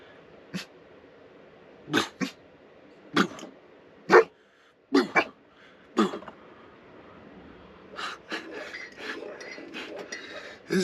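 A female dog at a remote wilderness truck camp gives a string of separate, close barks and huffs spread over several seconds, followed by softer rustling and movement.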